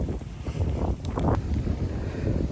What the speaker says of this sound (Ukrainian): Ох, такий вітер у нас сьогодні.